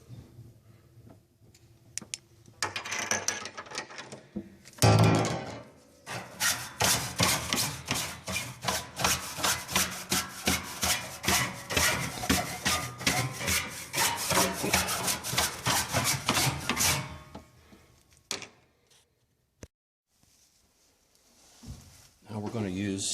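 Brush bristles scrubbing dust off a grand piano soundboard, a long run of fast rhythmic rasping strokes, close and fairly loud, fading to quiet near the end with brief knocks.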